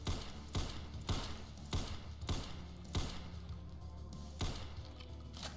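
Gunfire aimed at the player in the shooter game Ashes 2063, a series of sharp shots landing about half a second to a second apart, fairly quiet, with a constant background drone.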